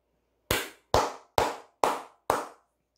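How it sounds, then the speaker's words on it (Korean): Five sharp hand claps in a steady, evenly spaced rhythm, loud and close, each a crisp isolated smack with silence between. "일단 크게 박수 한번 치고 가도록 하겠습니다."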